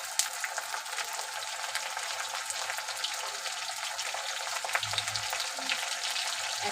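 Onion paste frying in a pan for mutton kosha gives a steady, fairly loud hiss that holds evenly throughout, with no voices over it.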